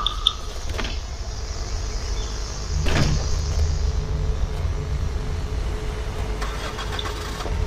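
A car driven in the zombie video game Dead Island: a continuous mid-pitched engine drone with a brief rise partway through, steady and fairly loud with no talking.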